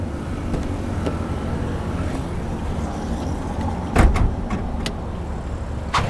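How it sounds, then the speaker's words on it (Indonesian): A 2017 BMW M3 F80 hood latch releasing: a few sharp clicks and a solid clunk near the end, over a steady low engine-bay hum. "Nah ini sekarang gua udah buka kap mesinnya."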